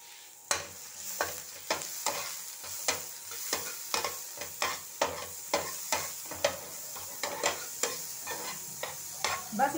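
A semolina snack mixture with chili flakes and black salt stirred in a pan: a rapid, regular series of close scraping strokes over a faint sizzle, repeating steadily throughout with no talk.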